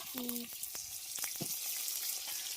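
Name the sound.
chicken frying with onions in large pan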